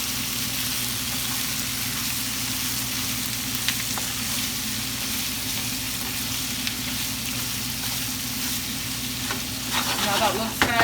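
Ackee and salt fish being stirred together in a hot pan, a steady close frying sizzle throughout with faint scrapes of the spoon, growing slightly busier toward the end.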